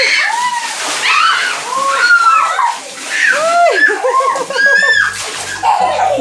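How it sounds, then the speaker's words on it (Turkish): Water splashing and sloshing as a bucket is emptied into an inflatable pool on a balcony, repeated pours close by with voices talking over it. "Burayı suyla dolduruyorum o zaman."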